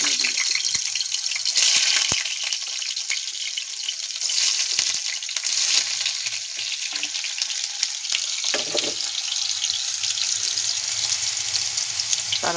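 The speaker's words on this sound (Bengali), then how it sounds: "তো আলুগুলোকে ভেজে নেব।" Potatoes sizzle and crackle steadily in hot oil with cumin and bay leaf, a continuous close frying hiss with a few brief clinks and stirring bumps, no talking.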